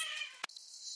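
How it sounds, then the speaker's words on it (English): A cat's short meow indoors, a single clear drawn-out cry that breaks off abruptly and trails into a faint high whine. "Settle down, kitty cat."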